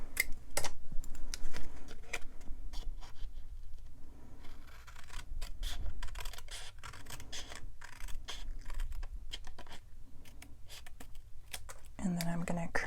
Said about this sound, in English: Well, I've got two panels, so I'm going to cut this one off.